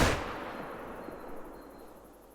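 A single Ranger .243 hunting rifle shot in theHunter: Call of the Wild, a loud sharp crack at the start followed by a long fading echoing tail across open terrain.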